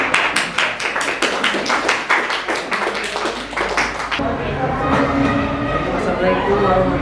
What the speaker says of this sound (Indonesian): Kita kasih aplaus dulu untuk kelompok 4.